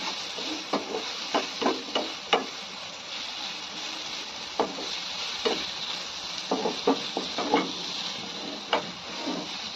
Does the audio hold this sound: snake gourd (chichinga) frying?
yes